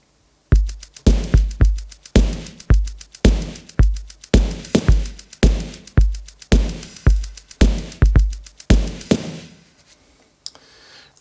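A soloed drum pattern built from outdoor field-recording samples, steady punchy hits with deep low thumps and sharp bright transients repeating in a quick groove for about nine seconds, then stopping into near silence.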